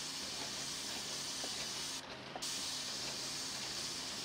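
An airless spray gun with its filters removed applies Super Therm coating, giving a steady, loud hiss that runs throughout, briefly broken by a short pause.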